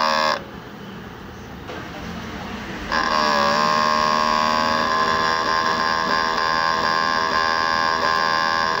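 An inkjet printer runs a head cleaning cycle, a brief clatter at the start then a steady mechanical hum and whine that steps up louder and holds continuously to the end.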